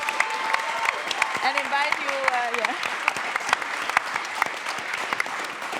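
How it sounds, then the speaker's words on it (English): Audience applauding pitchers at a World Food Day 2021 closing plenary: a steady, dense round of clapping that runs throughout, with a host's voice speaking over it. "give a very warm round of applause to our pitchers"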